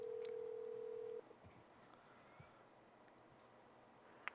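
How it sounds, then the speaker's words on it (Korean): A telephone dials out a call to a Korean-American voters' group leader for a live interview: a steady dial tone fills the first second, then drops to a faint, quiet line with a few soft tone blips. "전화를 걸고 있습니다. 제가."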